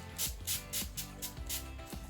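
Mud setting spray misting from a pump bottle in several short, soft hissing bursts, about one every quarter second, close and quiet, with no talking.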